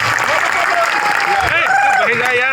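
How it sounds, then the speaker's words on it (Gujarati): Loud crowd applause at a political rally in Chhota Udepur, with voices and shouts over the clapping throughout. "બધા જ માટે એકવાર આપણે જોરદાર તાળીઓ પાડી લઈશું।"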